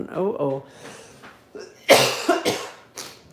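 Several harsh coughs in a quick cluster, close and fairly loud, following a bit of throat noise and breathy vocal sounds.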